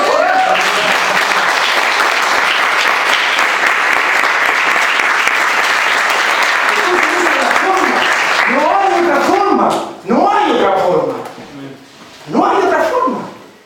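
A church congregation applauding loudly and continuously for several seconds, then the clapping gives way to a voice speaking.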